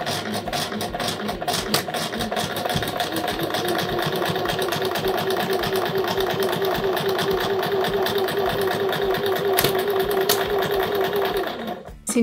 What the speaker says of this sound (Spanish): Si nunca en la vida habéis usado una máquina de coser, despacito